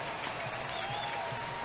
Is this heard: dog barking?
no